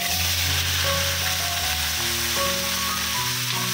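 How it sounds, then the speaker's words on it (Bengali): Teasel gourd and potato frying in hot oil in a kadai, a steady sizzle running throughout beneath louder background music with sustained tones. "কাঁকরোল আর আলুটা ভেজে নেব।"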